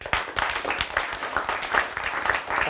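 Audience applause for a speaker at a talk show, a dense burst of many hands clapping together, fairly close and steady throughout.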